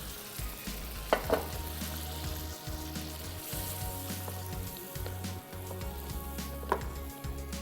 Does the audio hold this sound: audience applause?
no